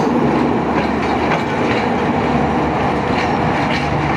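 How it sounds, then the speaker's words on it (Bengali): A train passing at Kulna rail station, a loud continuous rumble with rhythmic clickety-clack of wheels on rails, close and steady throughout. "ট্রেনও চলে গেছে"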